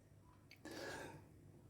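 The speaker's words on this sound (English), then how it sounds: "I'm going to cough" A single short, muffled cough sounds close by against quiet background hum.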